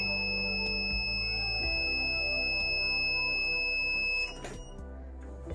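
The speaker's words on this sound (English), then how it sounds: "Now the buzzer will continuously remain on" A steady electronic buzzer alarm on an electronic letter box drones continuously with a high whine over a low hum, then drops in level near the end.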